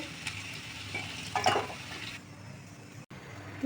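Chopped onions and whole garam masala fry in oil for ghugni, a soft sizzling hiss with a brief burst of crackling and a spoon scrape midway, then quieter.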